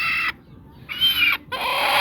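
Native roosters on a poultry farm cluck and squawk in loud, close bursts, with two brief pauses between clusters of raspy calls and no talking.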